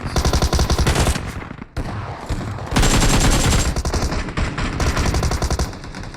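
Rapid automatic gunfire from PUBG Mobile, loud and dense, with sustained bursts that break off once briefly before resuming, and no talking over it.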